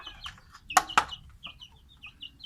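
Chickens cluck in short, scattered calls, with two sharp, loud knocks near the start and faint background noise between the calls.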